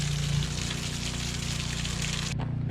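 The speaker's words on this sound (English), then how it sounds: "clean out the strainer and the bucket that had all the organic material in." Running water rinses out a strainer and a bucket used for backyard clay making, a steady close gushing and splashing that continues throughout before cutting off abruptly near the end.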